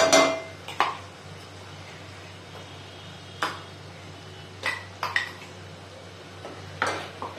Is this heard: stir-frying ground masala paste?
yes